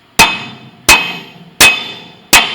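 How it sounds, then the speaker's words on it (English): A sledgehammer strikes the steel spindle of a LeBlond RKL manual lathe four times at a steady pace, each blow a sharp, loud metallic clang with a short ringing decay and nothing else heard. "we're going to take a sledgehammer"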